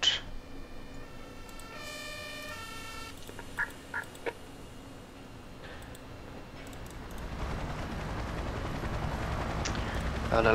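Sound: helicopter in video game Emergency 4

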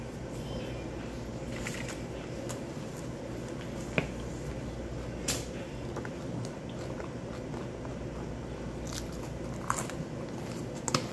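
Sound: eating, biting and chewing food

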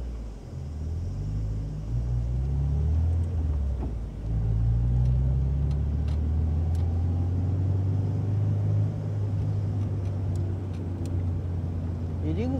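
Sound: Toyota 86 engine accelerating while drifting

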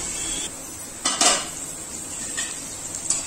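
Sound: chana (chickpeas) being roasted and stirred in a pan

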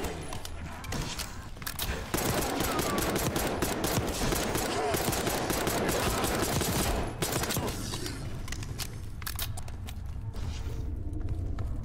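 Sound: gunfire in video game Call of Duty Black Ops 6

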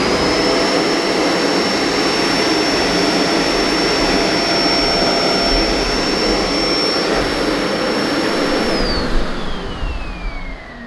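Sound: Kenmore Intuition bagged upright vacuum cleaning hard floor, roller off

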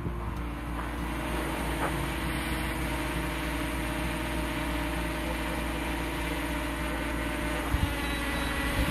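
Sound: drone descending and landing

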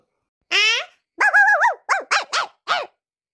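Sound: person imitating dog barking

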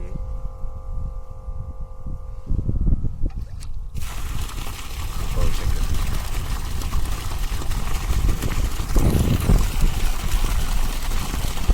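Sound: water pump motor running

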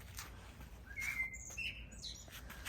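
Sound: starling singing trills on a roof

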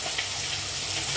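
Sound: mustard oil poured onto frying Morola fish mustard curry

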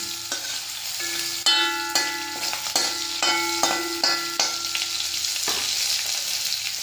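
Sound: onions and chickpea curry frying and being stirred in pan

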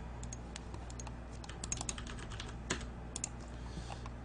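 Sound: typing on a computer keyboard during a game

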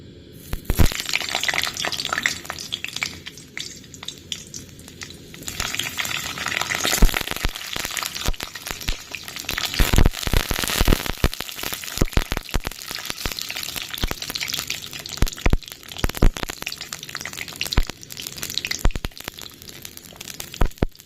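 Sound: small brinjals (eggplants) frying in oil

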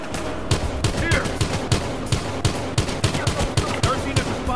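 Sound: pistol and shotgun fire in video game Battlefield Hardline

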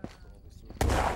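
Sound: grenade explosions in video game Ghosts of Tabor

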